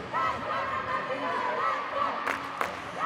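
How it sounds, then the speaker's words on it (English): A Namibian crowd at an indoor hockey match against South Africa cheers and shouts in a reverberant hall, a steady roar with bursts of claps, under a commentator's voice. "the Namibian crowd is trying to bring their team back into the game"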